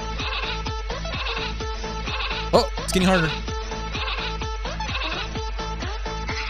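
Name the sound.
sheep bleating in a mobile video game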